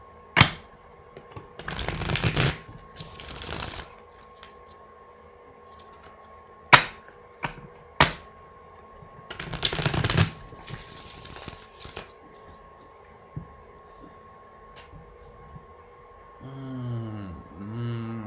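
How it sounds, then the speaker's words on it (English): Several separate bursts of cards being shuffled, spaced apart with quiet pauses between, close and moderately loud. "One more shuffle."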